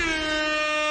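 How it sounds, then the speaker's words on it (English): Air horn blast, a single loud sustained tonal honk lasting about a second. "Let me go ahead and give you a air horn out here for showing me love right here."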